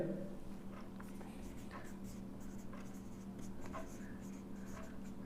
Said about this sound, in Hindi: तो जो सिद्ध करना है वो लिख लेते हैं पहले।